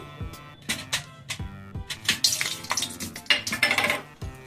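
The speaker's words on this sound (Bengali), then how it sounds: "কড়াইয়ে তেল দিয়েছি তেলটা গরম হয়ে গেছে এরপর আমি গরম মশলাগুলো দিয়ে দিচ্ছি" Bright crackling sizzle of whole garam masala spices and black pepper dropped into hot oil in a wok, in several bursts, with metal clinks of the pan and utensils close by.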